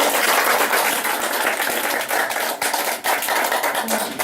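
An audience applauds at the end of a lecture, dense continuous clapping from many hands filling the room, loud and steady throughout.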